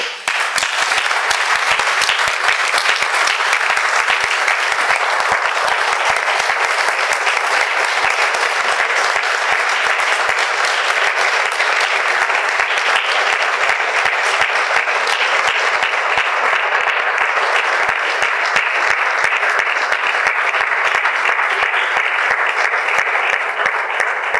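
A studio audience applauds for Roberto Cammarata, sustained dense clapping from many hands that stays loud and even for well over twenty seconds with no voices over it.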